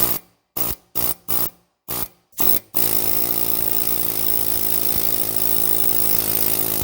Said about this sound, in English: stick it on the C-clip, on the flat surface of the C-clip, and then start to hammer